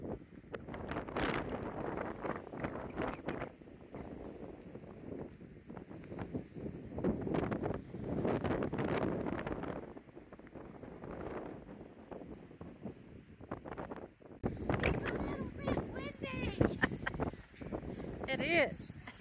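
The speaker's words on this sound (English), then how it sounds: "It is a little bit windy." Gusts of wind buffet the microphone in rough, uneven surges, with people talking through the rushing noise.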